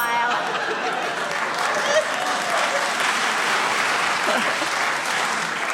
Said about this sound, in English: I should explain why that round of applause